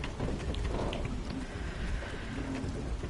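Steady heavy rain pours across a video game scene where fires burn, a continuous dense wash of rainfall with faint low rumbles, no voices.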